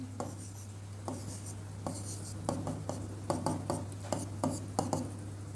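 Chalk or marker strokes on a board during a Class 10 Hindi lesson, a series of short scratching and tapping strokes in an uneven rhythm, close and fairly quiet over a steady low hum.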